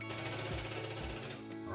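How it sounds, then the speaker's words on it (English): A power drill bores into bathroom drywall at a marked spot for mounting a mirror over a double vanity, a steady close whirring grind with a couple of brief pulses and thuds, no talk. "So wherever your mark is, we're just gonna go ahead and start drilling."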